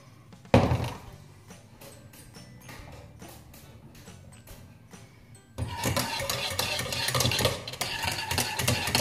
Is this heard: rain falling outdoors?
no